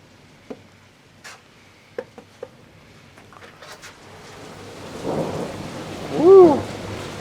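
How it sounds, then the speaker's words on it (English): A thunderstorm in heavy rain: scattered sharp cracks come first, then a swelling rumble of thunder builds to a loud peak over a constant wash of rain. "that lightning and stuff is like really loud right out there"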